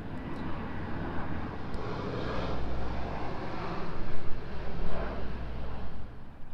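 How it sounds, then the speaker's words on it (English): An airplane passing overhead above a spring rose garden, a broad, steady engine rumble and roar that swells gradually and fades slightly at the end, with no talk over it. "I'm sorry, there's an airplane coming."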